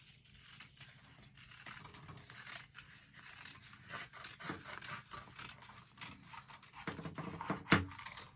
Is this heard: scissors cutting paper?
yes